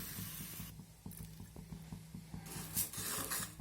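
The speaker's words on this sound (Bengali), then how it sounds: "মুগের ডালটাকে প্রথমে আমি শুকনো খোলায় ভেজে নেব।" Mung dal dry-roasting in a pan as it is stirred, with a steady rattling patter of grains and repeated scraping strokes, close and fairly quiet.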